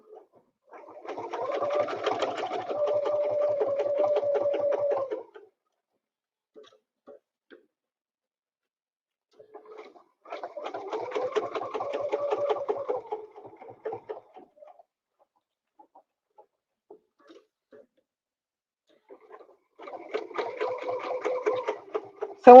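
A sewing machine stitches in three separate runs of steady, rapid mechanical chatter, each lasting a few seconds, with quiet pauses between them and no talking.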